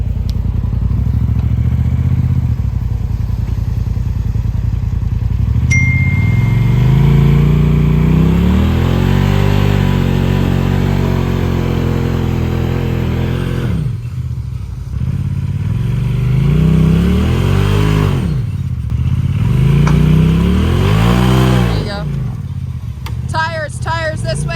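A Razor side-by-side off-road vehicle drives near a mountain stream campsite, its engine loud and close, revving up and easing off again and again in rising and falling surges, with a clattering rattle underneath.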